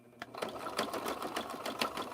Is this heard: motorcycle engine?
no